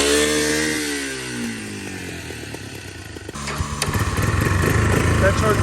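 A 1987 Honda Big Red three-wheeler with a new top end and muffler runs close by, its engine buzzing and rising into a harsher, louder rev while someone talks over it.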